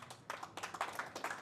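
Scattered hand claps from a small audience at a workshop, quiet and uneven, fading in and out without building to full applause.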